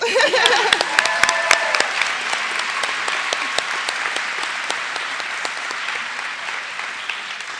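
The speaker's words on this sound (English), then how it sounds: "Opal, give her a round of applause" A lecture-hall audience at a Hampshire College panel applauds for Opal: a full, continuous round of clapping with a few sharp individual claps standing out early, gradually easing but holding steady to the end.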